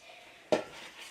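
Muffin batter for candy cane muffins, made with low-fat milk, is mixed in a bowl: one sudden loud scraping clatter near the middle, then a softer ongoing swish fading under light background noise.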